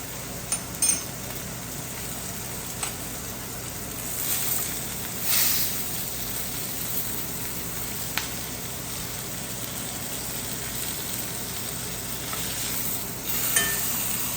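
A sous vide pork chop sears in a hot pan. A faint, steady sizzle runs throughout, close but quiet, with a few soft scrapes and taps over it.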